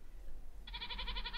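A sheep bleating in the Minecraft video game, a single short wavering bleat heard faintly over a low steady hum.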